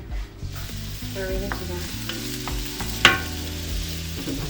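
Potent red chilies hitting hot oil in a pan, a steady close sizzle with a few stirring scrapes and one sharp metallic clink near the middle.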